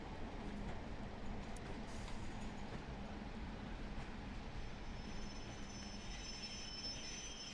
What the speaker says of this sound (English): Makes for a good bit of pacer flange squeal though.